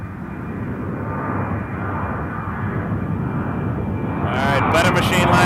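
An airplane lining up on the runway at Toronto Pearson Airport: a steady engine drone that slowly grows louder, with a brief voice breaking in near the end.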